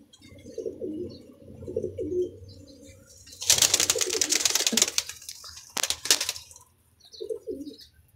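Pigeons coo in low, soft bursts close by, interrupted by loud rustling and flapping of wings, then cooing returns.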